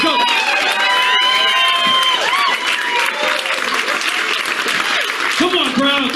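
A comedy club crowd claps and cheers loudly as a performer is introduced, with whoops and shouts over dense applause that stays strong throughout.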